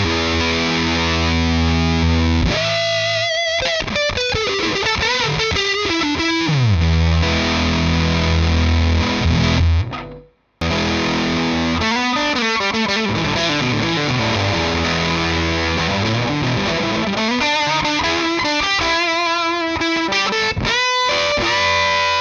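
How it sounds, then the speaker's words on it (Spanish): Electric guitar driven through a Redbeard Effects Honey Badger octave fuzz pedal, a thick, gated, Tone Bender-style fuzz with octave shimmer, played loud in continuous sliding phrases with one brief cut to silence midway. "creo que el fuzz tirando hacia la parte tone bender, vamos a llamarle, con un sonido un poquito más gated"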